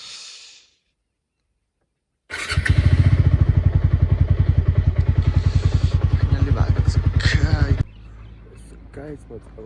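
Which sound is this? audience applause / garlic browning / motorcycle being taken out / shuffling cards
motorcycle being taken out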